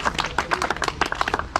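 Small group applauding the winners of a fishing competition outdoors, a brisk patter of distinct close claps with uneven rhythm, fairly loud and lively.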